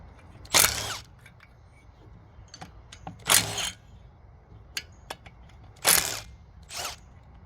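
Bolts on a seized Suzuki DS100 engine are loosened one by one in a crisscross pattern, giving four loud, separate bursts of wrench and ratchet clicking with faint metallic taps between them.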